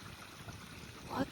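A small creek runs over slate rocks, a soft, faint trickle and gurgle close by with a brief louder splash near the end.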